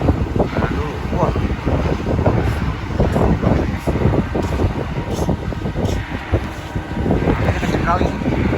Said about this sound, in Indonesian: Kenceng kali. Anginnya kenceng ya.